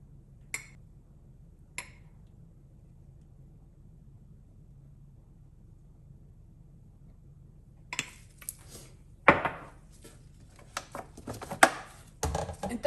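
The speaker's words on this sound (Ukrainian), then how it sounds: "також все ретельно перемішуємо" Egg yolks are mixed with starch for lemon curd. After a long near-silent stretch with two isolated taps, a utensil clinks and scrapes irregularly against a bowl, up close and fairly faint.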